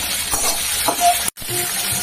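Okra and egg frying together in a pan produce a close, steady sizzle with light stirring scrapes, cut by one abrupt brief silence midway.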